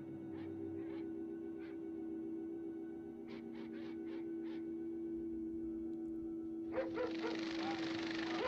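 Dogs in a zombie video game barking in short repeated bursts, a few single barks early then a quicker run of barks mid-clip, over a steady game hum, ending in a louder noisy rush.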